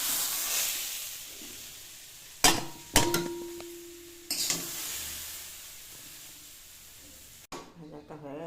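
Sliced bottle gourd fries in a pan with a soft, steady sizzle, broken by a few sharp spatula scrapes and clanks as it is stirred, then a brief pause before the hiss returns.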